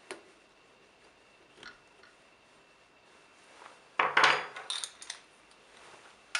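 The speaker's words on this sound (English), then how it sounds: "after hand tightening the bolts, they can be secured using a spanner" Pump head bolts on a Seko Tekna Evo dosing pump are tightened with a spanner. Faint, sparse ticks give way to a short cluster of sharp metallic clinks and scrapes partway through, then quiet.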